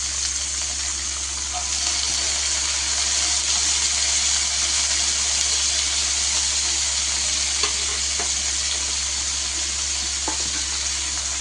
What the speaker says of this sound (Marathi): आता हे छान आपल्याला असं व्यवस्थित सॉफ्ट होईपर्यंत, नरम होईपर्यंत परतून घ्यायचं आहे